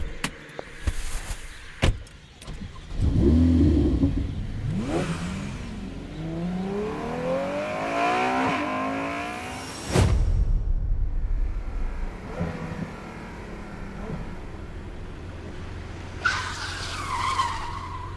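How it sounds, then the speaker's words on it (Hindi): A car engine turns over and revs, with tire skids and squeals as it pulls away and accelerates, a door-like thump and sharp transients mixed in, fairly loud and close with a brief lull before a final screech. "फिर तैयार होकर गाड़ी में बैठा और इशिका को पिक करने के लिए निकल गया।"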